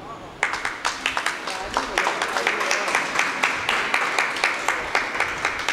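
Audience at a Hindi public address in Aligarh breaks into dense, steady clapping close by, a lively run of sharp claps keeping up throughout with a voice faintly underneath.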